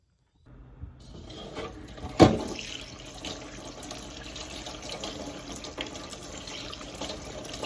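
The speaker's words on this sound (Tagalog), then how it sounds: "Hugasan ko lang muna yung aking mga na-harvest na beans" Tap water runs steadily into a sink while freshly harvested garden beans are washed, with a brief clatter near the start and a continuous close splashing flow throughout.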